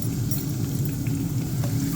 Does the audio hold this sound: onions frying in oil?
yes